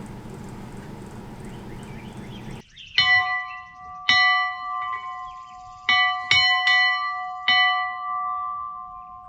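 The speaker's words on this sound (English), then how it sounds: "The bell is part of the original farm" An old farm bell rings outdoors, five or six bright metallic strikes spaced a second or two apart, each ringing out and decaying, preceded by a brief stretch of low ambient noise and no talking.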